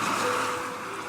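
A short burst of sea waves surges and washes in, the broad rushing swell strongest at the start and easing off within about a second, used as a storytelling sound effect with no voices over it.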